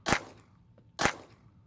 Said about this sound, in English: See, I get a few shots in there,